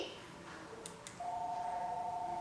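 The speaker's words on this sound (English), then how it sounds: "And now that's the phone, so" A telephone rings with a steady electronic tone that starts partway through and holds to the end, following a few short beeps, in a kitchen where pomegranate seeds are being whacked out.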